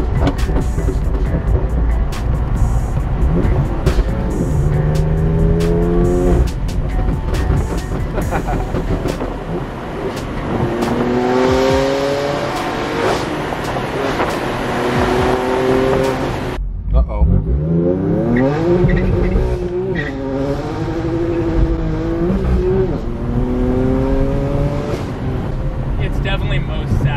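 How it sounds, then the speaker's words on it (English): A stage 2 tuned BMW M3 Competition with decat downpipes accelerates hard, its engine climbing through repeated gear pulls at full speed with a loud exhaust note, while people talk inside the car. "going full speed, still getting your amazing exhaust out"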